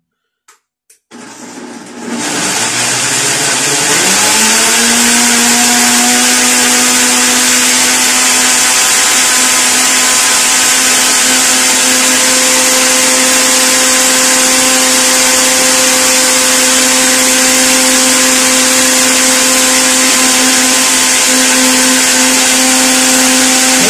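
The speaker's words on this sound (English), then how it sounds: "turn on the blender." A blender starts up after a brief click and runs loudly and continuously with a steady high whine.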